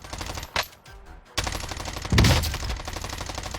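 Rapid XM4 rifle fire in the Warzone battle royale, a loud close burst of automatic shots followed by a brief pause and another heavy, dense stretch of gunfire.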